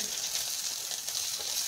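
Onions frying in oil for sambar, a soft steady sizzle with faint crackle running evenly throughout, close and alone.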